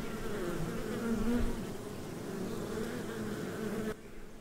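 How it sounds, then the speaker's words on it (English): Honeybees buzz around hives set in a meadow at Dyrham Park, a steady close hum of many insects with one droning pass swelling briefly louder before the sound drops off near the end. "These provide a home for a colony of honeybees, which collect nectar and pollinate the various flowers."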